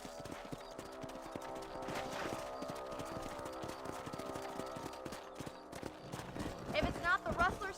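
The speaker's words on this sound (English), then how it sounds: "Let's get back on the horses and see what else is going on." Horses trot along in the Western video game Red Dead Redemption, hooves clip-clopping in a steady rhythm under ongoing talk, with a louder stretch near the end.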